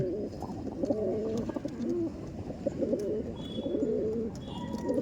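Punjab pigeons at a pigeon loft coo steadily and close, several throaty rolling calls overlapping in a continuous murmur with no talk.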